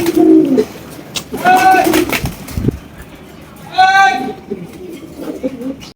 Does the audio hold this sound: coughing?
no